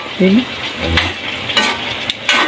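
Vegetables and okra are stirred in a frying pan. Bursts of scraping and clatter land over a constant sizzle, close and fairly loud, and a brief voice-like sound comes near the start.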